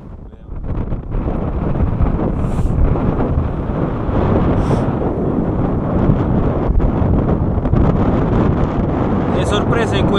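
Fierce wind on the open steppe pummels the microphone in loud, sustained low rumbling gusts that persist for the whole stretch, with some faint sharper rustles breaking through.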